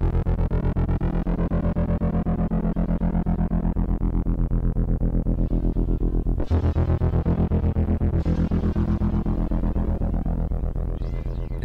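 Heavily effected guitar, played with the feet, drones continuously with thick, throbbing distortion, a couple of sharp bright accents cutting through near the middle.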